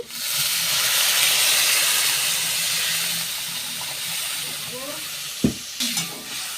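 Water poured into a hot pan of fried tilapia sets off a loud, steady hiss and sizzle that slowly fades, with a metal spatula clank and brief sputters near the end.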